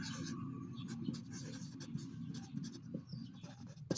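A pen scratches across paper while sketching a curve for a calculus problem, steady soft strokes with small taps, close and fairly quiet over a low background hum.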